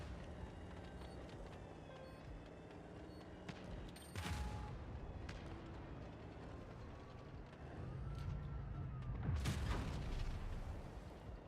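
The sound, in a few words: tank cannon shots in World of Tanks Blitz video game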